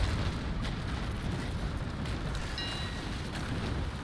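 Cannon broadside fire in the Naval Action video game during a port battle defense, a dense, continuous low rumble of booming shots rolling without clear breaks, with no talking.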